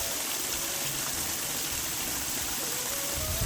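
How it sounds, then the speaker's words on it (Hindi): Irrigation water flows steadily into terraced hill fields, a continuous broadband rushing and gushing, close and fairly loud with no voices. "ऊपर वाले खेत में मम्मी पानी दे रहे हैं और यहाँ नीचे वाले में मैं दे रहा हूँ"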